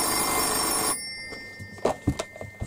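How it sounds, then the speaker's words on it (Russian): A telephone rings with a bright, steady electronic tone that cuts off after about a second, followed by a few soft clicks and handling knocks nearby. "Татьяна Кузьминична Капустина по согласию звонит, просил в 6 часов узнать, все ли у меня хорошо"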